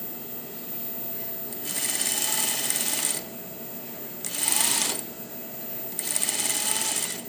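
A sewing machine stitches a skirt seam for a dress in three separate runs, each a steady whirring buzz that starts and stops, close by with a quiet hum in the pauses.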